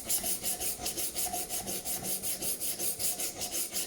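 A thin, flexible knife blade is drawn repeatedly across a Work Sharp rolling knife sharpener, making a steady rhythmic rasping scrape of about four strokes per second, close and uninterrupted.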